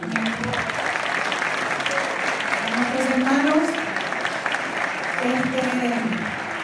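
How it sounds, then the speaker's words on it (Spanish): Sustained audience applause at a Hispanic awards ceremony, a steady dense wash of clapping with voices mixed in throughout. "Por favor, un aplauso para nuestra tierra hermana."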